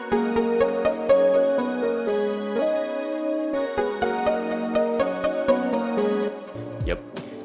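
A full beat melody with layered synth chords and arpeggiated plucks over a steady ticking rhythm, continuous and fairly loud, ending with a quick rising sweep.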